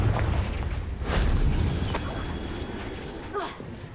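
The Confringo blasting spell goes off in the Hogwarts Legacy video game with a loud, deep explosive boom that rolls on as a rumble for several seconds before fading.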